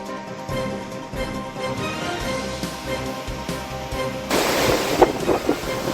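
Floodwater of the Moyar river at Theppakadu rushing over a submerged causeway, a steady broad roar of surging water with wind-like noise that grows louder and harsher near the end, under background music.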